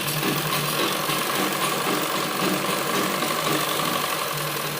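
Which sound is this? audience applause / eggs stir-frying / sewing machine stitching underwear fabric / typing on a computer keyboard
sewing machine stitching underwear fabric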